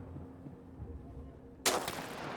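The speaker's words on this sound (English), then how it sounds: "Okay, wait for the next shot." A single sniper rifle gunshot in the war survival video game This War of Mine: one sudden sharp crack with a brief rumbling tail, breaking a quiet low ambient background.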